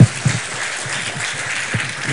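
A church congregation claps together, a broad steady wash of applause with a few heavier thumps, continuous and fairly loud with no talk over it.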